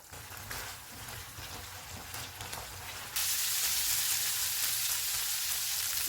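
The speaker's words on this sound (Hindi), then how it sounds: "चूल्हे को मीडियम टू हाई कर देते हैं और इसको 2 से 3 मिनट तक भूनेंगे" Chicken fries in a pan over medium-high heat, giving a continuous crackling sizzle that jumps louder and brighter halfway through and then holds steady, close up, with no talking.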